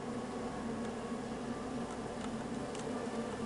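Steady, faint buzzing of bees in the King's Quest adventure game, a continuous drone with no breaks, no voices over it.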